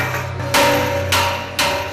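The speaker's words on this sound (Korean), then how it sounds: "망치로 두드려 벌어진 틈을 최대한 좁힌다." Steel plates of a bank safe being hammered to close gaps, three loud, sharp metallic strikes spaced evenly, each ringing briefly over steady workshop hum.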